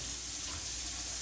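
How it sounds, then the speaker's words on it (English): Cold water runs from a kitchen sink tap in a steady, continuous rushing stream, close and fairly loud, with no voices. "I'm going to run my water on cold"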